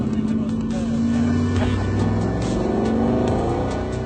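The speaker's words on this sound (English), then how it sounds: "This is a big Cosworth-tuned V8, so it's a great sound" A TVR car's Cosworth-tuned V8 engine holds a steady, close rumble throughout while a person talks over it.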